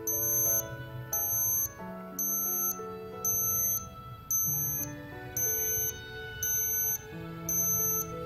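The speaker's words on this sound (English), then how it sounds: "when flashes stops, an alarm will beep" A handheld digital thermometer's alarm, a high electronic beeping, repeats in steady pairs of tones with short gaps, sounding loud and close over a quiet musical background.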